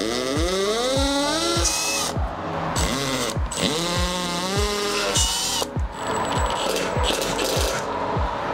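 Screws are driven with a powered driver while a Happijac bed lift track is installed, with whirring motor runs that rise and fall in pitch, rapid ratcheting clicks and metallic clinks, all loud and close throughout.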